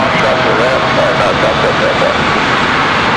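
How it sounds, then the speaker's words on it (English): A Delta jet airliner arriving at Raleigh-Durham airport, inbound from Atlanta, gives a loud, continuous engine roar, with a voice talking over it. "Next arrival is Delta 1518 coming in from Atlanta, Georgia."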